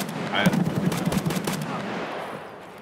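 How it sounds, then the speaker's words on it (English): Rapid bursts of automatic gunfire from a video game, a quick loud volley that fades into a decaying tail over a few seconds, with no talking during the shots. "I'm downstairs shooting at him."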